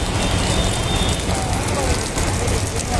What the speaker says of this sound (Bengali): সন্ধ্যার পরবর্তী সময় থেকে মেঘলা আকাশ, হালকা বাতাসের সাথে বৃষ্টি শুরু হয়েছে।